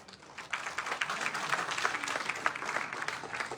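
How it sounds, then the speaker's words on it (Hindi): Audience applause fills a seminar hall in Delhi, a dense, steady wash of many hands clapping that swells early and holds at moderate volume for several seconds without speech. "प्लीज जोरदार ताली के साथ"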